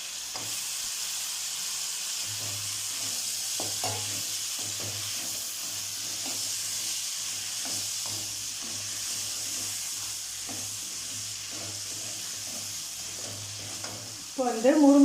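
Onions and brinjal sauté in a pan for a Pondicherry-style fish curry, giving a steady, close sizzle with soft stirring scrapes throughout and a brief louder clatter at the end.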